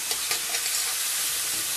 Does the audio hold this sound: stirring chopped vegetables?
yes